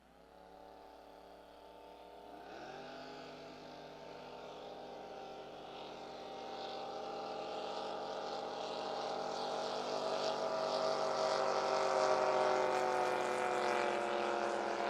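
Drag racing boat roaring down the lane at a San Angelo race, a deep engine note that fires up then climbs steadily in pitch and loudness as it runs, heard from a distance.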